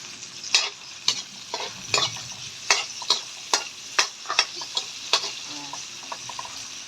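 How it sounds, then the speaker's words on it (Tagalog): Onions and garlic sautéing in a pan crackle beneath a regular rhythm of sharp spatula scrapes and taps, about two per second, near and clear with no speech. "yung sibuyas, yung bawang is ongoing cook na po. Nakasalang na."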